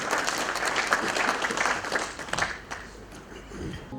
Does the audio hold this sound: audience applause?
yes